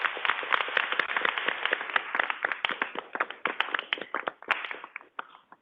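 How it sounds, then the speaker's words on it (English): An audience claps together, a dense burst of hand claps that thins out and fades over a few seconds. "Can I have everyone join me in a round of applause for our great panelists?"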